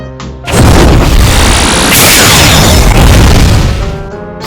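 A weapon's C-move attack in the Roblox-style game Sailor Piece sets off a huge, loud booming explosion that rolls on for several seconds with a crashing roar and no voices.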